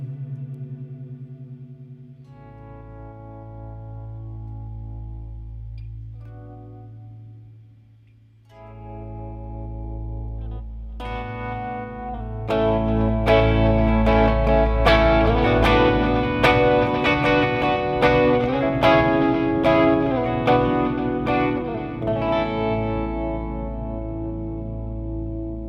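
Clean electric guitar chords through a Line 6 auto swell patch swell in softly with no pick attack, volume fading up under each note, building into a fuller, layered wash with chorus and echo.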